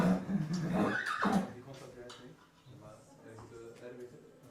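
Young horse neighing during its first ridden session at a starter training course, one loud whinny near the start, followed by quieter sounds while someone talks over it.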